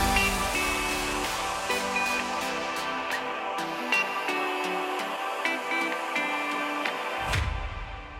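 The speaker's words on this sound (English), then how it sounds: "we have a transition, a sweeper transition." A sweeper transition in an electro house track rises through a dense, bright mix of synths and beats, then ends on a loud low impact hit near the close, with no talking.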